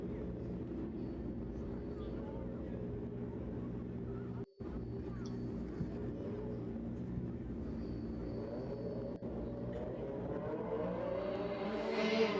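Race bike at a Festival of Power event rumbling steadily as it is brought up to the start line, a constant low drone that rises slightly near the end, heard from a distance with a commentator talking over it.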